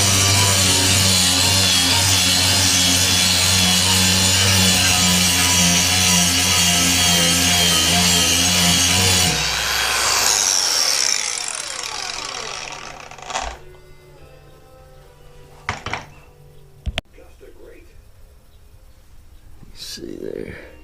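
A grinder strips rust from a metal table with a loud, steady high whine for several seconds, then spins down, followed by a few sharp clanks in near quiet.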